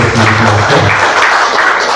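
Applause thanks a teacher at a youth catechism class in an Indonesian church, a brief burst of dense clapping that fades out within about a second.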